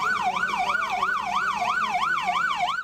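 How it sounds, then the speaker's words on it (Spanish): An ambulance siren wails in a steady up-and-down sweep, about two cycles per second, loud and continuous, while carrying a patient to the hospital in Tumaco, Colombia, on a road in poor condition. "La sirena de esta ambulancia en la que fue trasladada una paciente al hospital de Tumaco pide paso"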